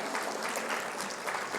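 Steady audience applause for a moderator at a legal education panel session, a dense sustained patter of many hands clapping at moderate volume, with no talk over it.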